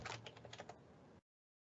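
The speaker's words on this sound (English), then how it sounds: "Oh, you have an old school keyboard." Rapid clacking of an old-school noisy computer keyboard, a quick burst of close, crisp keystrokes that ends abruptly into silence.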